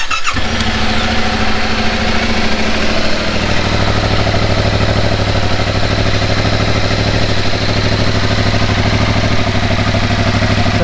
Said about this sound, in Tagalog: yan yung tunog ng stock na tambutso natin.